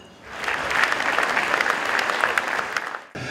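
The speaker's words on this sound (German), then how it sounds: "Also ein Applaus für unsere Ausgezeichneten hier in der Kategorie Frauen." Applause for award-winning women athletes at a district sports ball, starting quietly, swelling into steady crowd clapping, then cutting off briefly before resuming near the end.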